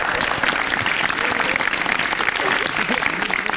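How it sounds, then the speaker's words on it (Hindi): A studio audience on a television talk show claps steadily and loudly, a dense, even round of applause throughout. "ताली ठोको"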